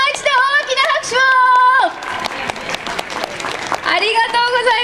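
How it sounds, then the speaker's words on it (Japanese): Outdoor street-party crowd in Fukuoka clapping for a youth dance studio's performance, heard as scattered applause beneath a loud announcer's voice and ringing stage sound. "もう一度大きな拍手を。"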